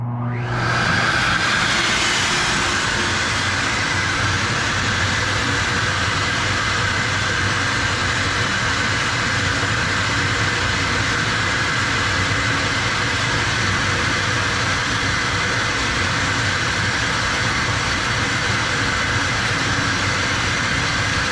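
A steady, loud rush of air starts abruptly and holds constant, a broad roaring whoosh with a faint whine, as a flow bench pulls air through a cylinder head with no exhaust pipe fitted.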